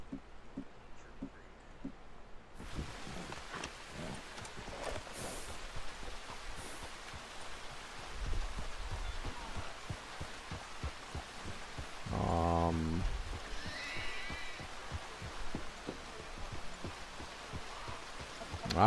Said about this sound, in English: God, the rain is so pretty.